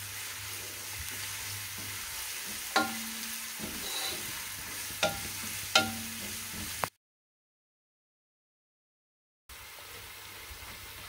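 Spices sizzle and fry in a pan for vegetable pulao with a few scraping stirs, then a brief stretch of silence before the sizzling resumes.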